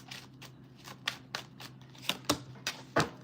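Tarot cards being shuffled by hand, a series of soft quick riffling swishes and taps in an irregular rhythm, close but quiet, with no one talking.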